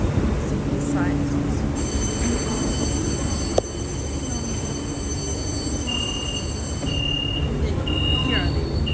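Subway train running on a morning metro line bound for Yuquanlu, a steady loud rumble of wheels and car noise with faint high whines and a brief clank midway.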